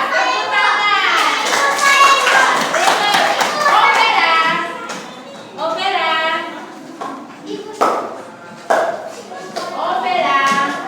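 Children in a primary school religion class clap in short rhythmic bursts between stretches of a teacher and pupils talking, the claps sharp and close, coming in several separate groups.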